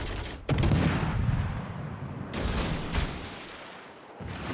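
Naval gunfire in World of Warships: Legends booms in loud, dense bursts, a heavy roaring salvo followed by another strong volley, with rumbling low blasts and no talk.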